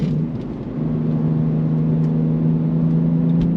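A 2024 BMW M2 with a six-speed manual gearbox accelerates out of a corner, its engine note rising into a steady, strong drone heard from inside the cabin, with a brief dip before the throttle opens.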